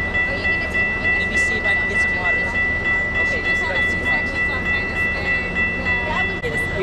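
Passenger train travelling from LA Union Station to San Bernardino, heard from inside as a constant rolling rumble with a faint tonal whine, while people talk in the background.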